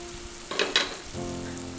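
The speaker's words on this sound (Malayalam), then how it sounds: "അപ്പോൾ നമ്മൾ ഒഴിച്ചേക്കുന്ന വെള്ളം നല്ലതായിട്ട് വെട്ടി തിളച്ചിട്ടുണ്ട്." Water brought to a rolling boil with vegetables in a pan for egg and vegetable upma, heard as a quiet, steady bubbling and hiss with a couple of brief clinks partway through.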